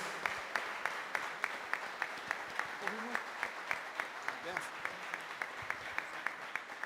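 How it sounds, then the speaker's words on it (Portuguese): A church congregation at a Brazil Para Cristo cathedral in Campo Grande claps together in a steady, even rhythm of sharp beats repeating over several seconds, moderately distant, with faint voices beneath. "com salva de palmas ao Senhor, amados."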